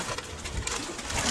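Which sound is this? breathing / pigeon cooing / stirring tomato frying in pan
pigeon cooing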